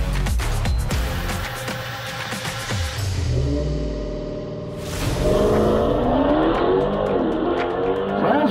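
A Tesla and an A90 Supra at a dragstrip: a loud engine rumble fades, then a burst of revving and a car accelerating hard, with tire noise, up close.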